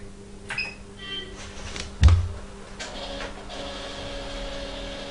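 The internal printer of an Ekomilk automatic milk collection unit prints a slip with a short mechanical whir, a sharp clunk partway through, and then a steady feeding hum.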